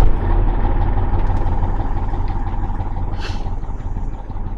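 A MAZ truck's diesel engine runs at a loud, close idle with a deep rumbling throb that eases slightly over time. A brief hiss of air sounds near the end.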